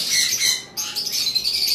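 On a bird farm, cockatiels, including an albino breeding pair, and high-mutation lovebirds give close, shrill overlapping chirps and squawks in a short busy burst with a brief dip partway through, and no speech.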